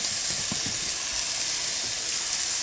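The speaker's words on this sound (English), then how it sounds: "we're going to add the chickpea mixture. It actually looks like an omelet." A chickpea omelet mixture fries in a hot pan, giving a steady, loud, continuous sizzle with faint soft clicks underneath.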